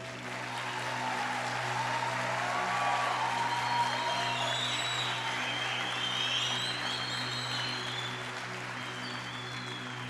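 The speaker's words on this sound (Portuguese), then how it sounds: "vamos dar uma salva de palmas para o pastor que vocês têm?" A church congregation applauds for its pastor, with sustained clapping and faint whistles or shouts over a steady low electrical hum from the sound system, lasting throughout at moderate level.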